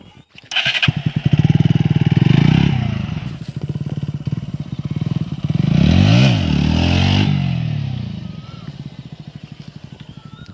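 A Bajaj Pulsar NS 125 motorcycle lifts into a wheelie, its engine revving hard in rising and falling bursts, loud and close, with a brief drop between pulls.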